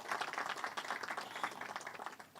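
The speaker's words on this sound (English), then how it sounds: "Could we please give a big round of applause to the World Bank for organizing this event" An audience at a national strategic dialogue event gives a round of applause, sustained dense clapping at a moderate distance, steady and without voices over it.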